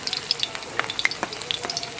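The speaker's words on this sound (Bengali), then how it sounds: "আঁচ মাঝারি রেখে বলগুলিকে ডিপ ফ্রাই করে নেব।" Vegetable Manchurian balls deep-fry in oil over medium heat, giving a steady, busy crackle and sizzle with scattered sharp pops throughout.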